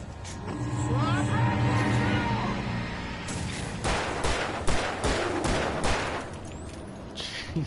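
Gunfire in Alan Wake: a rapid burst of about half a dozen sharp loud shots in quick succession, following a stretch of game sound, with a few more cracks trailing at the end.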